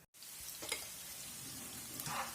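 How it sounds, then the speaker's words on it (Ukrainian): Onion sizzles in a covered pan as a steady, close, broadband frying hiss with faint crackles throughout, starting after a brief silent moment; no one speaks. "Цибулька вже в мене тушиться"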